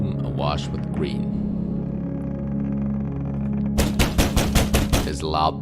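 Seven loud, rapid knocks bang against a wooden door in a tense survival video game, the sharp thuds rising suddenly out of a low droning ambient hum with faint voices before them.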